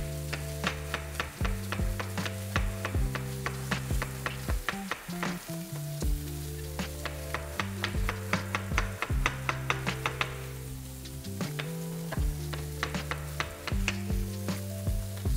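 Chopped chestnut mushroom mixture frying in a pan, a steady close sizzle with occasional stirring taps, while a strong melodic music track plays over it throughout.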